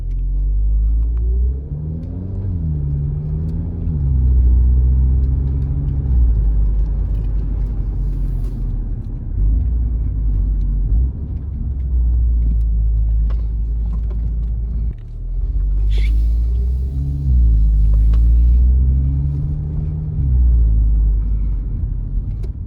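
A car with an EA888 engine on a road test drive after a water pump replacement and walnut blasting of the intake valves, its low engine drone rising and falling through gear changes, steady and close for the whole stretch with no talking.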